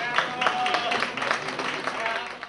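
A television studio audience applauds as a young woman from Moldova walks onto the stage of a comedy show: steady, dense clapping throughout, with a host's voice talking over it.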